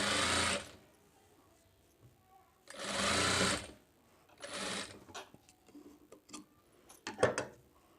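A sewing machine stitches a katori blouse in several close, loud whirring runs, a long burst, another, then shorter ones, separated by quiet handling clicks and light fabric rustle.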